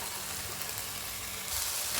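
Soy sauce and tomato sauce sautéing in a pan for millet noodles, a steady close hiss and sizzle that grows slightly louder at the end, with no voices.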